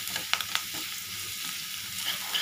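A spoon stirring and scraping a turmeric and salt mixture in a hot pan, with a soft steady sizzle and a few quick clicks near the start, close by and without talk.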